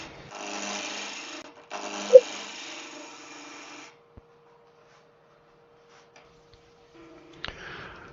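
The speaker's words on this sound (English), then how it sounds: "Now here's that pull cut again with the bevel support on the side." Pull cut on a wood lathe turning a wand: a close, grainy scraping hum runs for about four seconds with a short break, then only a faint motor tone remains with light taps.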